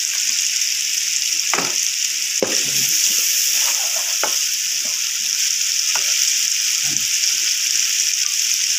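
Cumin seeds and whole spices sizzle and crackle steadily in hot oil in a home kitchen, a loud continuous hiss with a few stirring knocks, no talking.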